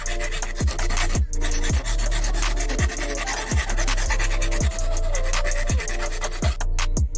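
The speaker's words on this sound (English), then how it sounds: "patience with the file. Just going to hollow it out, test fitting it, hollowing it out" A hand file rasps steadily at a hole being hollowed out to fit oil pressure gauges on a 2002 Toyota MR2 Spyder, loud and close, with rhythmic back-and-forth strokes about every second and brief pauses between.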